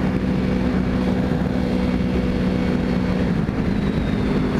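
A 2011 Yamaha R1 motorcycle engine drones steadily through a second-gear clutch-up wheelie, a loud continuous low hum with no pauses.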